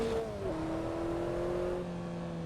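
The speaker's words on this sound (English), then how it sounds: "oh, there comes the traffic the other way" Oncoming traffic car passing by on the Pacific Coast Highway in Assetto Corsa, a steady engine drone with a falling pitch as it sweeps past, fairly loud and continuous with no talking.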